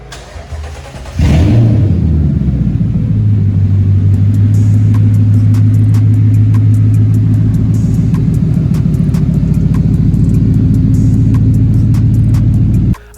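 A Toyota drag car's 1UR V8 engine cranks and fires after a second of quiet, catching with a sharp burst. It then settles into a loud, steady, throbbing idle that runs for about eleven seconds before cutting off abruptly.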